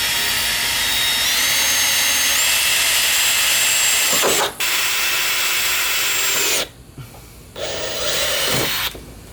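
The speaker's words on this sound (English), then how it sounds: "we'll go ahead and drill through up there" A power drill whines through a car fender during a 75mm fender body kit install on an S13, running in long close bursts with brief pauses and a stop near the end.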